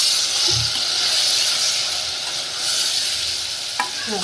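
Cluster beans (guar) fry in plenty of spicy oil as they are stirred, a loud, dense close sizzle and hiss with soft scraping of a spoon, and a sharp utensil knock near the end, no talk.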